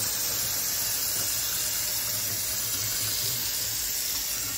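Water from a tap runs steadily into the countertop reverse-osmosis filter tank of a Bluevua UV unit, a constant close hiss and splash that lasts throughout with no voices.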